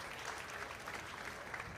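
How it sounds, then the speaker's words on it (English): An audience at a youth pretty cow contest claps in a steady, even round of applause that fills the short stretch without any speech. "Let's give these ladies a nice round of applause"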